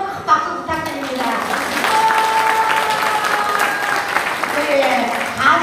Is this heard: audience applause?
yes